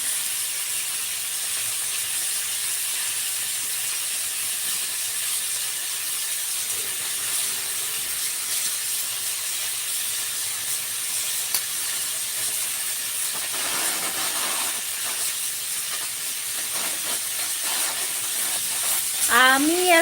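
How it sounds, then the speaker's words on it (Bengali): Food sizzles steadily in a pan, a continuous bright hiss that holds evenly from start to finish, close by, with a brief faint voice near the end. "এখন রান্না করছি রান্না আমি এখন বসে বসে রান্না করছি"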